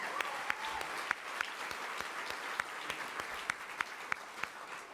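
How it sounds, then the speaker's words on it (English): Guests at a tribute dinner applaud in a soft, even patter of clapping, with a few sharper individual claps standing out, heard from some distance. "Please give June a round of applause."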